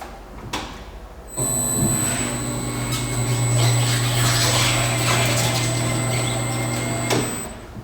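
Helper arm on a tire changer lowering toward a 35-inch tire on its rim, a steady mechanical hum and whine that starts abruptly, holds for about six seconds, then cuts off.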